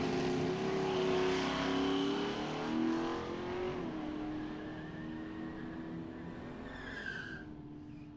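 Drag race at a strip with a 1978 Nova against a Camaro, two engines screaming at high revs as the cars launch and pull away, the roar fading into the distance, with gear changes near the end.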